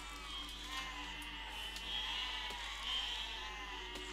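Sheep bleat in the video game Besiege, several overlapping wavering bleats from a flock over a steady low hum of game ambience.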